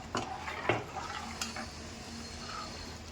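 A spoon stirs spiced Rajasthani pakoda kadhi in a pot, with a few distinct scrapes and clinks against the metal early on, followed by a soft, steady bubbling and stirring close by; no one speaks.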